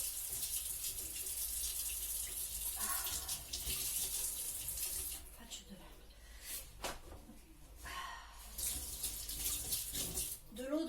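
Kitchen tap water running into a sink while cooking chili con carne, a steady broadband rush for most of the stretch with brief breaks, accompanied by dishes and some talk.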